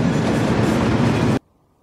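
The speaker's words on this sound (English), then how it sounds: "Oh, there's a train." A train passes in the game Afterfall Reconquest with a loud, steady roar and rhythmic clatter of wheels on rails, then cuts off abruptly into near silence.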